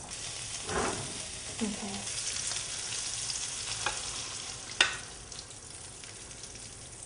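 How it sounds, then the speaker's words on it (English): Potatoes fry in olive oil with a steady, moderate sizzle, punctuated by a few scrapes and taps of a utensil, and a person briefly speaks. "I'm going to put my potatoes in first, so get them like a nice crispy brown a little bit"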